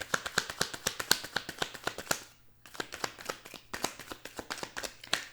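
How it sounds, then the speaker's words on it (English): Rapid, crisp riffling of tarot cards, a dense run of clicks repeated in quick bursts with a short pause midway, close by and with no talking. "cards not wanting to shuffle"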